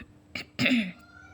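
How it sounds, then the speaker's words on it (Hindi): A woman's sudden loud cough with a short lead-in hack, two bursts close together at the mic, then quiet. "बड़े ज़ोर की यहाँ पर मुझे खांसी आ गई"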